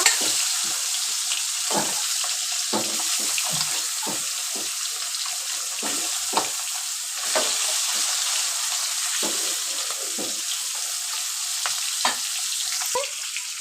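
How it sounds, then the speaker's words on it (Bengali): Koi fish fry in hot mustard oil with a close, steady sizzle broken by frequent crackles and pops throughout. "তেল ভালোভাবে গরম হয়েছে, এবার একে একে মাছগুলো দিয়ে ভেজে নিব। প্রথমে আমি কই মাছগুলো ভেজে নিব।"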